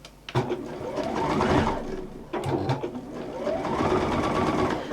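A sewing machine runs along a seam in two stretches of fast, rising whirring, each a couple of seconds long with a brief stop between, close and prominent.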